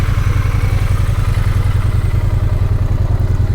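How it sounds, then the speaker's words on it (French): A 900cc twin-cylinder Triumph Bonneville T100 motorcycle engine runs close by, a steady loud throbbing idle with rhythmic pulses and mechanical clatter, heard alone. "La belle sonorité du bicylindre de 900 cm3 d'origine."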